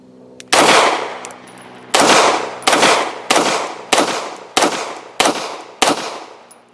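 Beretta M9A4 pistol fired in seven loud, sharp reports, spaced roughly a half-second apart in a steady rhythm, each shot ringing out with a short echoing tail, no voices.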